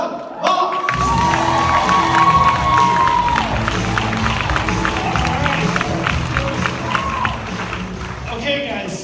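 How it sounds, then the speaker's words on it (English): A large crowd at a Team Beachbody leader retreat in 2017 cheers and applauds as a speaker is welcomed onstage: loud, sustained whoops, shouts and clapping that carry on for about nine seconds, with a tonal swell at the start. "Please give a huge round of applause to Doug Moss."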